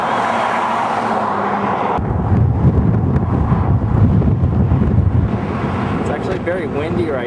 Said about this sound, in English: Very windy right now.